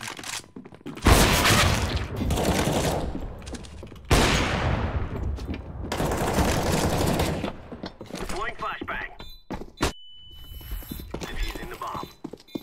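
Valorant gunfire on the Split map, with bursts of rapid automatic shots in dense loud stretches, breaking off into quieter game sounds toward the end.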